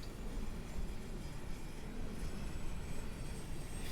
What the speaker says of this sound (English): We're going to start the APU now. So just a question of pushing that one button. We'll watch the RPM increase. And we'll pop outside to listen to it spool up.